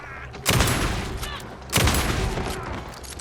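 Two loud shotgun blasts in the video game Alan Wake 2, about a second apart, each a sharp boom with a ringing tail.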